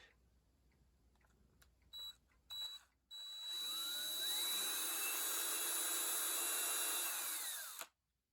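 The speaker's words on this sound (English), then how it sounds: "I'll just take the drill, and I can do it right here." A couple of brief drill bursts, then a loud sustained whine of a power drill running for several seconds before cutting off, while restoring a mini printing press.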